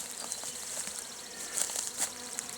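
Honeybees from a 3 lb package being installed into a hive box buzz in a close, steady hum, with individual bees droning past.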